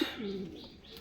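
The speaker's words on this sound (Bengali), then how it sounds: "আজকে কিং কবুতর কিছু এক জায়গায় ছাড়বো, প্লাস গোসল দেওয়াবো।" King pigeons give a single short, soft coo, heard faintly and close by.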